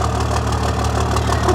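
A 1994 12-valve diesel engine idles steadily up close, a loud, even low rumble with a rapid rhythmic knock and clatter.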